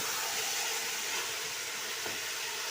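Eggplant and potatoes fry with spices in a pan, a steady hissing sizzle that holds even and close for the whole short stretch, no voices.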